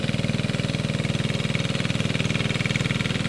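A Kubota RK diesel engine on a farm machine idles in a field with a steady, rapid, even thumping, close and constant throughout, with no talking.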